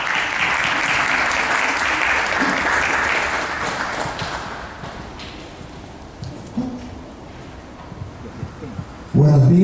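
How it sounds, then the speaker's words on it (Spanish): Applause from an academic folklore conference audience, loud and dense at first, then thinning into scattered claps with room noise and a few faint voices, ending in a sudden louder sound. "Pido un aplauso para él, por favor"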